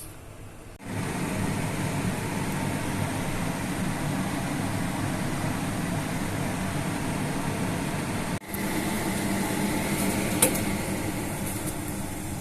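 Steady hiss and low rumble of dumplings steaming in a stovetop steamer, a continuous even drone broken by a short dip, with a faint clink near the end and no talk.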